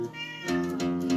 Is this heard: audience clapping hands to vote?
no